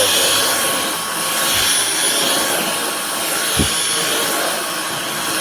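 A Dyson V11 Origin cordless vacuum cleaner runs with a steady, loud whirring hiss that holds constant throughout, with a couple of brief low thumps as the head moves over the floor.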